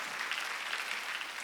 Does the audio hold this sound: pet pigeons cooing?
no